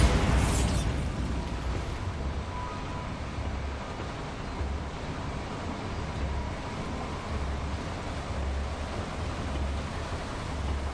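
A Bombarda spell blast in the Hogwarts Legacy video game opens with a sharp, loud explosive burst, then settles into a long, low rumbling wash of debris and ambience, with no voices.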